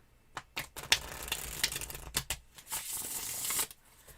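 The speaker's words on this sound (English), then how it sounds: "shuffle the cards for you a bit" Tarot cards shuffled in a series of crisp riffles and soft slides at close range, with short bursts and pauses between them, quiet and intimate with no talking.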